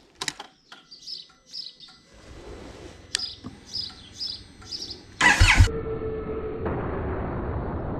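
A motorcycle starts with a sharp burst and rides off through a calm neighborhood, its engine settling into a steady, moderately loud drone after a stretch of faint birdsong and distant rumble.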